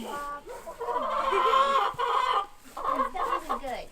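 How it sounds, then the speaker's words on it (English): Chicken clucking up close in a farmyard setting, a run of loud, drawn-out squawking clucks in two bursts with a short pause between. "It's a chicken."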